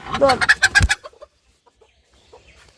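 A short burst of chicken clucking, a few quick close calls in under a second, then near silence with faint scattered noises.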